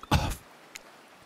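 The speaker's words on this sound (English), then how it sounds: "Cough, cough, cough." A single throat-clearing cough, close and brief, followed by a faint short second cough after a pause, set in the Hooked On You dating game.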